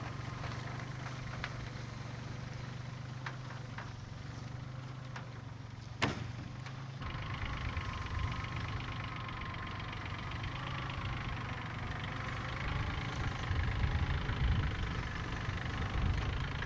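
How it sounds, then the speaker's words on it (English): A tractor engine idles and runs steadily while pulling a wooden chicken tractor across grass, a constant low rumble with a sharp knock near six seconds and no talk. "use the tractor now to just pull it over there"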